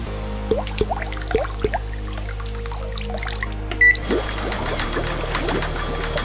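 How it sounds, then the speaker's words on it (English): A LEGO motorized bottle-washing machine stirring cleaning liquid in a tank, with a steady motor hum and light sloshing and dripping clicks up close, then a change in motor tone partway through. "The liquid's been fully stirred by the machine."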